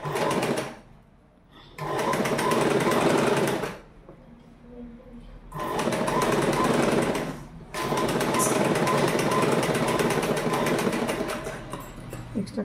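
A sewing machine stitches a fabric strip onto a child's uniform knickers. Three long runs of fast, steady whirring are broken by short pauses, and there is faint room sound between the runs.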